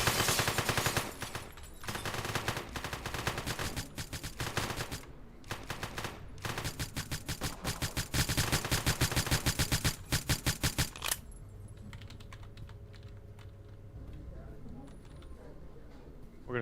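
Rapid automatic gunfire from a video game, with dense bursts of loud shots crackling almost continuously for about eleven seconds before a quieter stretch of game sound.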